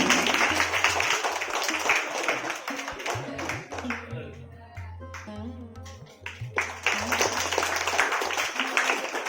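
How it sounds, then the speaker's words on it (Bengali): Applause for Arya Biswas at a Teacher's Day prize giving, a crowd clapping loudly at first, fading midway under a voice and music, then swelling again into a full burst of clapping. "জোরে হাততালি হয়ে যাক"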